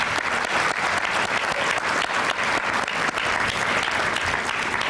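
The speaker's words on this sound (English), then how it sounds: "Please, applause for this group." A luncheon crowd gives sustained, full applause, dense and continuous throughout with no talking over it.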